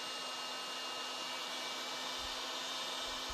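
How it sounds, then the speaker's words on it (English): A heat gun runs steadily at close range, a constant even blowing roar with a faint tonal whine, alone with no talking. "Get our heat gun up to temp."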